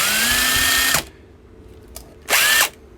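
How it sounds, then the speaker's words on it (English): A DEWALT 18V impact drill powered through a 20V battery adapter revs up in two bursts, a loud rising motor whine for about a second, a pause, then a shorter second run, close and alone. "take my impact drill and lock it in place just like that, and let's start it like this"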